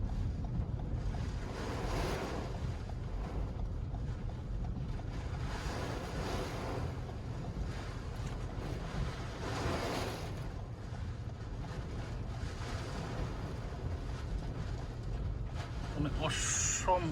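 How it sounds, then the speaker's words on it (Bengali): Strong tornado wind sweeps through a street in Houston, Texas, a steady roaring rush with gusts swelling and fading, heard under someone talking. "মানে অসম্ভব জোরে বাতাস হয়েছে।"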